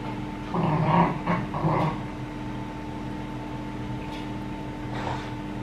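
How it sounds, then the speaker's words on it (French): Two pet dogs play-fight on a couch indoors, letting out a burst of close, rumbling growls in the first couple of seconds, then softer intermittent whimpers over a low background hum. "Les chiens sont tarés."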